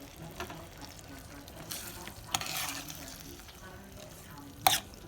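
Butter beans with Spam being stirred in a pot, a soft continuous sizzle with faint scraping and a few sharp clinks of the spoon against the pot, close and quiet with a voice murmuring low in the background.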